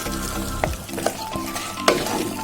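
Mutton biryani masala with chopped mint and coriander being stirred in a kadai: steady frying sizzle with a few sharp scrapes and clanks of the spoon against the pan, close and alone.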